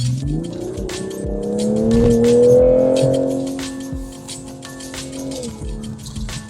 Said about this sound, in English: Yeah, listen to that engine.